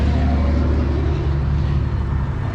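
An FSI car engine idles after a coolant leak repair, giving a steady, dense, close-up drone with no change in pitch and no one speaking.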